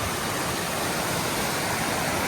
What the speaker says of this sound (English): Thoreau Falls. Water is just crazy coming down.